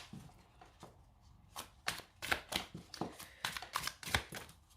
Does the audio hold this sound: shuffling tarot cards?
yes